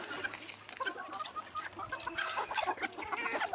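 A flock of chickens on a country poultry farm holding around 250 birds clucks steadily and densely, many hens close together in a busy, continuous chatter with no voices.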